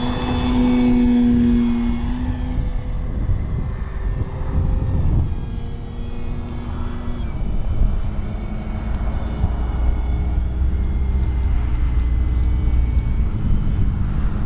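An FMS Pitts 1400mm RC model airplane flies over a runway, its engine a steady continuous drone that holds at an even level throughout, with harmonic whine shifting slightly as it passes.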